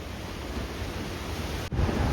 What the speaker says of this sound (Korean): 시원한 파도 소리와 하얗게 부서지는 파도를 보면서